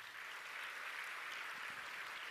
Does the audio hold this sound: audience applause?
yes